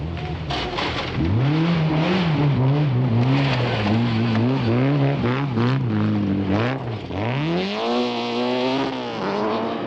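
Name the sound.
Peugeot rally car driving through forest stage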